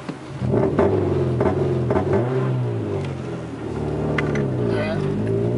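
A 2006 Nissan Sentra SE-R Spec V with a two-step launch control box, held at wide-open throttle so the engine rev stays steady, buzzy and loud with slight wavering pitch throughout.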